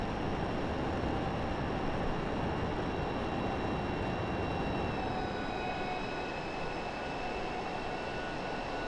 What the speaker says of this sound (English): Yeah, so I've pressed the afterburner now.